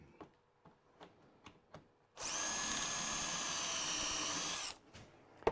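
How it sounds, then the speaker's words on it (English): Light tapping and clicks, then a cordless drill runs steadily for nearly three seconds before stopping, followed by a few knocks. "Drill this hole."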